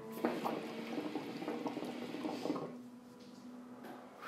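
Water in a hookah bubbling while it is being smoked, close and quiet gurgling in uneven bursts that ease off partway through, with no talk.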